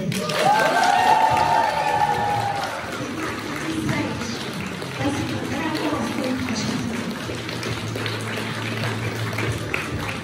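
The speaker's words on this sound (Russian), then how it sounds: "очаровательному ведущему наши аплодисменты" An audience applauds in a steady wash of clapping, starting under a raised voice and carrying on alone.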